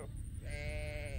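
A limping sheep gives a single wavering bleat, fairly close and moderately loud, over a low background rumble.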